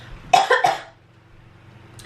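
Two or three harsh coughs in quick succession, close and loud, followed by quiet.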